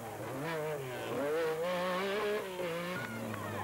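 A rally car races past during the 1986 Rallye du Var, the engine revving and shifting through gears with a rising and falling whine, moderately distant and fairly faint, with no talk.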